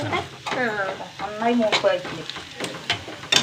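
Grated coconut roasts in a hot pan for a curry, a steady dry sizzle with stirring sounds, heard under intermittent talking.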